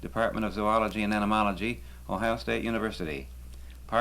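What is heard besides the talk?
No distinct noise like a dog, phone or traffic.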